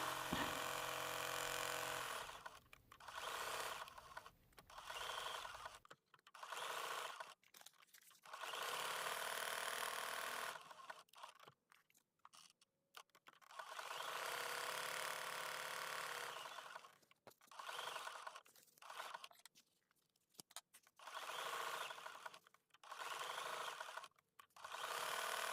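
A sewing machine stitches raw edge applique utensils on a quilt block, running in repeated steady whirring bursts separated by short quiet pauses, close and alone.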